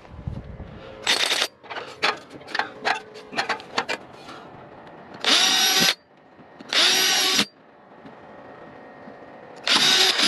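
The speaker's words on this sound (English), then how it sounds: "Okay, I'll pre-drill those holes." Power drill pre-drilling holes for a security camera mount, whirring in several separate bursts with short stutters and quiet gaps between runs, close and loud.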